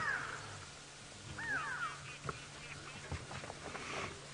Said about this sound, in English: there's a great go-away bird that is alarming behind me